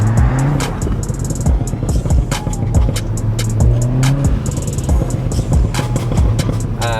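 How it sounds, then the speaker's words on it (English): Tuned Mk7 Golf R at Stage 1 Plus, its engine loud and close with revving pitch sweeps and repeated sharp exhaust pops and bangs crackling throughout. "straight away you'll hear the pops and bangs now"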